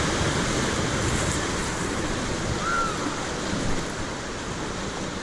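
Whitewater rapids on the Pigeon River rush in a steady, loud broadband roar of churning water, continuous throughout with no talking.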